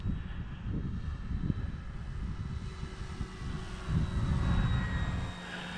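An E-flite Carbon-Z Cub radio-controlled airplane with a 2.1 m wingspan cruises at low throttle, its motor a steady drone that rises slightly and fades near the end.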